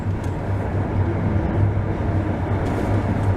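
A London Underground Metropolitan line train runs steadily with a constant low rumble and drone heard from on board, loud and unbroken, with no talk.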